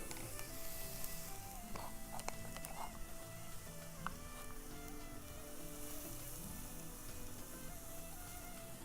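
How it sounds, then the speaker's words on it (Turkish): Onion and garlic sizzle steadily in olive oil in a pan, a soft continuous frying hiss with a few faint clinks of a utensil, close and alone without talk. "Ben bu arada zeytinyağımda soğanı ve sarımsağı kokusu çıkana kadar kavurdum."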